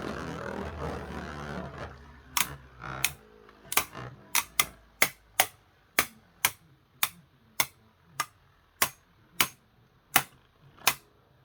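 Kaiser Kerbeus Beyblade tops launched into a stadium and clashing, heard as a spray of noise and then a steady run of sharp, evenly spaced clicks and clacks, close and fairly quiet, with no talk.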